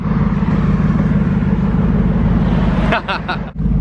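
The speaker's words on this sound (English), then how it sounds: "first time driving an SLR" A 2004 Mercedes SLR McLaren being driven, its engine a loud, steady low drone throughout with a brief dip and shift in tone near the end.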